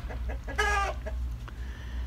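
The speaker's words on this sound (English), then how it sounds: "chickens clucking and carrying on." A hen gives a short, bright cluck near the middle, with a few softer clucks and faint farmyard noise around it over a low background hum.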